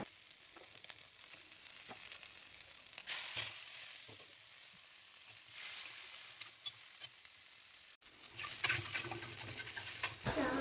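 Garlic and green chilli tempering in hot oil after fish frying, a faint, steady sizzle with occasional pops and stirring clicks, briefly swelling louder near the end.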